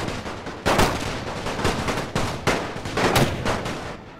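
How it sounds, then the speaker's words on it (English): Rapid bursts of machine gun fire rattle across a World War I battlefield in the game The Great War 6.0, steady overlapping volleys mowing down advancing Russian troops, loud and continuous with sharp louder cracks punctuating the stream. "Machine guns just tearing down the Russian line."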